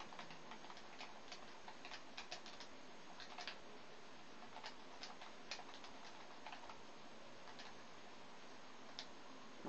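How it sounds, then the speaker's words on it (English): Fast typing on a keyboard gives a quiet, rapid run of clicky keystrokes in an irregular rhythm against faint room noise, with no voices. "I'm a fast typer."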